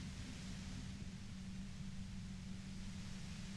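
A steady, even hiss of white noise from the Disco Elysium video game holds constant and fairly quiet for a few seconds, with no talk over it.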